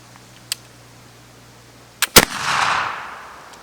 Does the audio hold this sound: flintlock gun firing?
yes